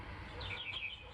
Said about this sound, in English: somebody mentioned our birds in the background